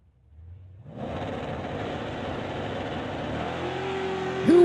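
A drag-racing 1999–2000 Camaro with a 408 LS engine roars to life after a second of near silence, then holds a loud, steady, full-throated engine drone at close range with a brief sharp whine at the very end.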